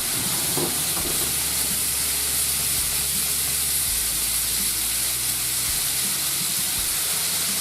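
Meat flaming in a skillet while braising beef for boeuf en daube gives a loud, steady hiss and roar that carries on without a break under a low rumble.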